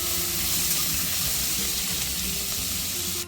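Carrots cooking in a pan for a veg dinner, a steady, close hiss of sizzling and steam that stays even throughout with no talking.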